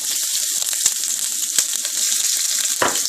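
Cumin seeds and ginger sizzle in hot oil, a steady bright crackle with a few sharp pops and a short stirring scrape near the end, close and alone.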